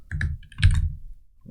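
Keys clatter on a computer keyboard during coding, a few quick close clicks in two short bursts separated by a brief pause, crisp and alone.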